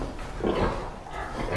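Sow pig grunting on a farm, a few low, rough close grunts over a muffled, noisy background.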